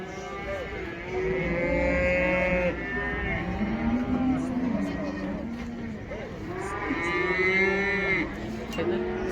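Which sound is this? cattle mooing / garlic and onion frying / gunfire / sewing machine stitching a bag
cattle mooing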